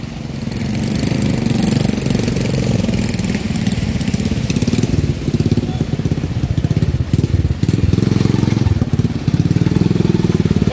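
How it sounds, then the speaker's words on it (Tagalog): A motorcycle engine roars steadily at high revs through flood water in Manila, loud and close, with a rough, throbbing rumble and faint splashing underneath. "Yung mga motorsiklo, kailangan birahin mo talaga ng pagpatakbo para hindi mapasukan ng tubig yung tambutso."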